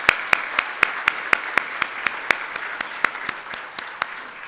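Audience clapping at the 51st Michigan Week Community Awards ceremony, heard as a steady, evenly spaced run of sharp claps of moderate loudness that continues without any talk.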